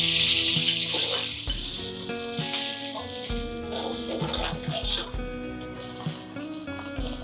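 Whole dry red chilies and jhakia seeds sizzle in hot oil for a Pahadi black chickpea curry, a steady crackling fry with tonal background music throughout.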